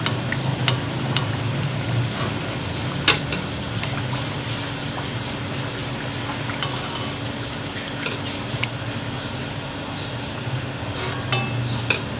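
Aloo kachori deep-frying in hot oil over medium heat, a steady dense sizzle with scattered pops and crackles running throughout, fairly close and even, with no voices.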